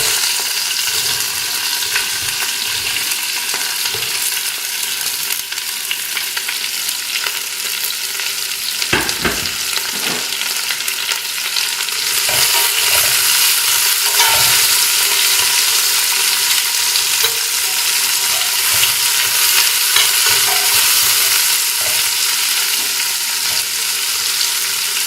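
Onions and garlic frying with curry leaves in a pan for chicken curry, a steady loud sizzle that swells and grows brighter halfway through, with occasional stirring scrapes and clatters and no talking.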